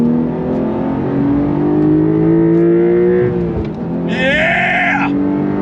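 A 2024 Porsche 911 Carrera T engine revs hard on throttle, a loud, close, rising harmonic howl that climbs steadily, dips briefly, then surges again with a high-pitched whine near the end.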